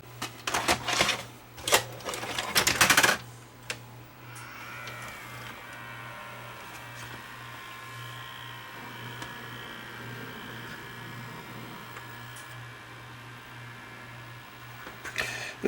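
A GE VG4055 VCR loads and plays a tape: a few loud clunks and mechanical clatters in the first three seconds, then a steady motor hum with a faint tonal whine running quietly under the rest, with no talk.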